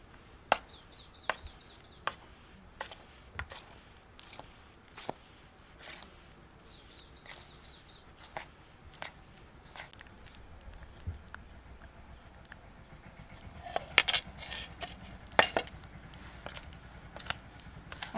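Potatoes are stirred in ghee in a cooking pot, the utensil knocking against the pot in sharp, regular clacks that grow busier toward the end, with faint bird chirps in the background.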